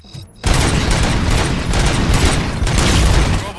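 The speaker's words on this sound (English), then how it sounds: "Gunshots? What's going on?" Sustained gunfire from the video game RoboCop: Rogue City, a loud dense barrage of rapid shots and booms that begins abruptly after a brief quiet moment and continues without pause to the end.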